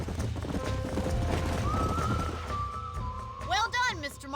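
Horse hooves clip-clop steadily in the Red Dead Redemption video game, followed by a sharp whinny near the end, with a voice talking over them.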